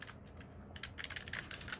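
Mechanical typing on a Redragon Shrapnel keyboard fitted with new keycaps, a close run of quick clacky keystrokes in an uneven rhythm after a short pause, with no voices.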